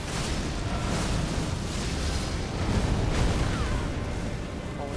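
Mortar shell explosions in a video game, a continuous roar of dense, overlapping blasts and rumbling booms with a brief louder surge midway, and a voice faintly present underneath.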